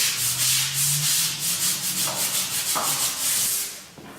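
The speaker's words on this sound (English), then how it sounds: "and scrub the area really good" A rhythmic back-and-forth scrubbing of a floor being prepared for epoxy, brisk rasping strokes repeating steadily at close range, then easing off.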